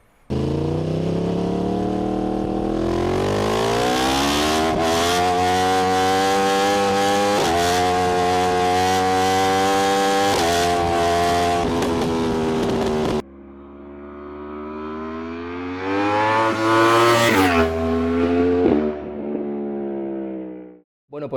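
Yamaha R1 crossplane four-cylinder engine revving hard and close, pitch sweeping up and holding high for several seconds, then a gap and a second sharper climb to a peak before cutting off.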